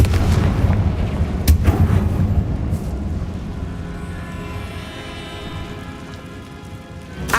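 Confringo blasting spell explosions in Hogwarts Legacy, a loud rumbling blast with a sharp crack near the start and another at about a second and a half, then a long decaying crackle and roar fading to a low rumble.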